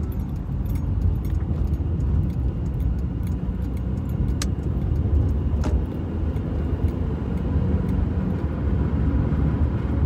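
A car driving on a road with a steady low rumble of engine and tires, a loud constant drone inside the cabin, and light rattling and a couple of faint clicks above it.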